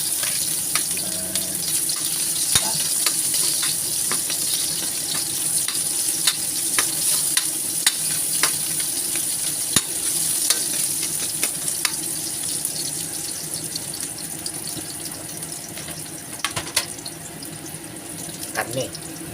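Chopped onion fries in a pot for pork caldereta, a continuous crackling sizzle with frequent scrapes and clicks from stirring, close and steady throughout.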